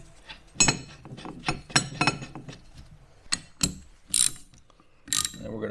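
Ratchet clicking in short bursts while snugging down bolts on a zero offset brake assembly, each quick run of sharp metallic pawl clicks separated by brief pauses, close and fairly loud with no talking.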